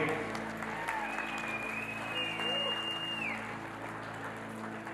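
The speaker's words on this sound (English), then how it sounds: "round of applause for Janelle and Jake" At a wedding reception, guests applaud the couple with a steady, fairly distant patter of clapping that runs throughout, mixed with some faint voices and a loud room hum beneath.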